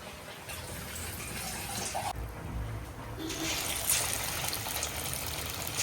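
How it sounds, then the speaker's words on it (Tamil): Steady stream of water pouring and splashing into a cooking pot, a continuous gush with a brief lull midway. "தண்ணி சேர்த்துக்கலாம்"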